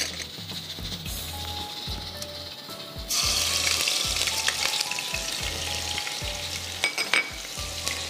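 Ginger and garlic hit hot oil in a pan and sizzle loudly, with the hiss surging partway through and repeated low scraping knocks of stirring in a steady rhythm; close and clear, no talk.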